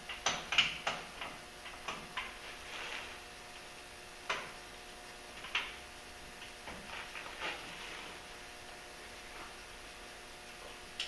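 Sharp, faint clicks from a torque wrench tightening hub bolts to 133 foot-pounds on a Ford Super Duty in a cramped space; scattered single ticks at irregular intervals over a quiet background, no talking.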